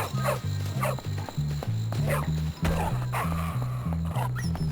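A dog barks repeatedly in the Bully video game, sharp yips recurring over steady game music with faint talk in the background.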